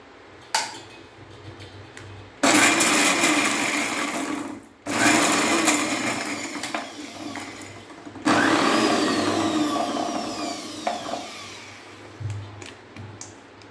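A mixer grinder coarsely grinds vegetables for cutlets, roaring loudly in three long bursts separated by brief pauses, with faint clicks and knocks between runs.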